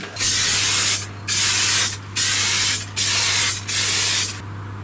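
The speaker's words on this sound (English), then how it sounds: "Quick dose of acetone based clear coat, and hopefully it won't melt the whole damn thing." Acetone-based clear coat sprays onto a smooth mould from an aerosol can in five loud, steady bursts of hissing spray, each about a second long with short gaps between them.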